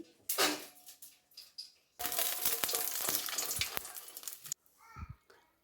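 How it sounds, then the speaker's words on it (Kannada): Byadgi dried chillies, about ten of them, hit a little hot oil and burst into loud, dense sizzling that runs steadily for a few seconds, framed by brief clatters and quieter moments before and after. "ಒಂದು ಸ್ವಲ್ಪ ಎಣ್ಣೆನ ಹಾಕ್ಕೊಂಡು ಒಂದು 10 ಬ್ಯಾಡ್ಗಿ ಮೆಣಸನ್ನು ಹಾಕೊಳ್ತಾ ಇದ್ದೀನಿ"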